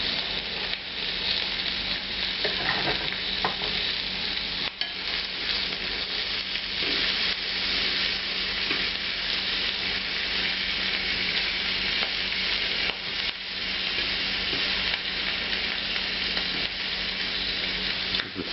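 Shrimp sizzle hard in a pan over extreme high heat, a loud, dense, steady frying hiss with faint stirring and scraping knocks running throughout, no voices.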